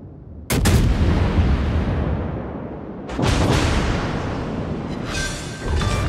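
An aircraft fire support strike in a naval battle video game, with two loud, sudden blasts a few seconds apart, each followed by a long rumbling decay, and no talking.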